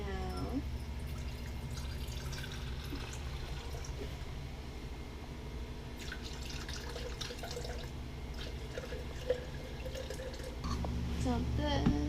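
Apple cider vinegar, 8 ounces, poured out into a measure: a steady trickle of liquid over a low background hum, fairly faint, with a slightly louder splash near the end.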